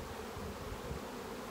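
Saskatraz-line honeybees at the hive make a soft, continuous buzzing hum, close but faint, with no voices.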